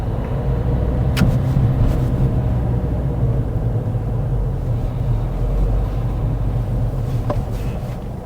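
A steady, low rumble of a car driven by a learner driver on the road, heard from inside the cabin, with a few faint clicks over the constant engine and road noise.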